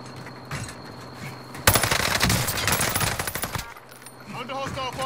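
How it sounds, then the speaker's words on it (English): Call of Duty gunfire erupts abruptly as a loud, rapid automatic burst that rattles on for about two seconds, with quieter game sounds and voices around it before and after. "Under hostile fire."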